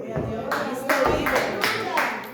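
A church congregation at an Easter resurrection sermon claps in a steady rhythm, a sharp burst about every half second over a couple of seconds, with voices mixed in.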